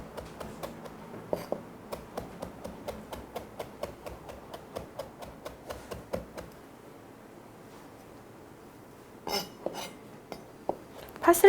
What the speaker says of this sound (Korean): 파슬리를 다져 볼게요.